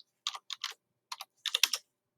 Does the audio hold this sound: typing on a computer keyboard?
yes